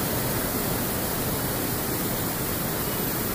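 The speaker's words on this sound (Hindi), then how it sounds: "उधर झरना नीचे आ रहा" Waterfall at Nainital pouring down among cold water and clouds, heard up close as a loud, steady broadband rush with no break and no voices.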